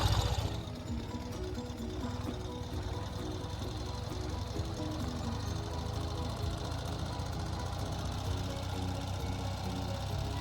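Sidecar motorcycle engine running steadily while riding up to a winery in Sonoma, California, a continuous low droning rumble with wind noise throughout, no talking.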